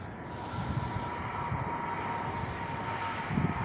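A fixed-wing airplane descending low to land near a park, heard as a steady, fairly faint engine roar and rushing air that holds evenly throughout, with no voices.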